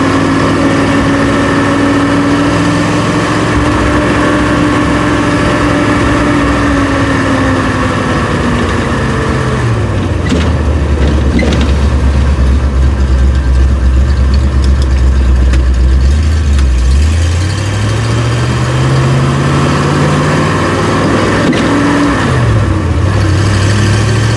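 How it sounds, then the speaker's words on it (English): A 1970 Fastback car engine runs steadily near the microphone with a raspy, ticking exhaust note from an exhaust leak at the collector, its pitch rising and falling as the revs change, no talking. "Might have a little exhaust leak right down here at the collector."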